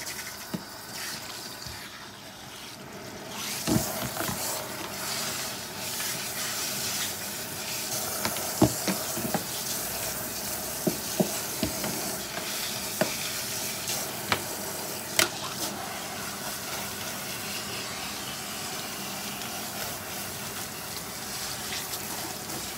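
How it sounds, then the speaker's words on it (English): Tap water runs steadily at a salon shampoo sink while a client's hair is rinsed, a continuous broad hiss with small clinks and splashes, fairly close and with no talking. "Now we're gonna go ahead and rinse her"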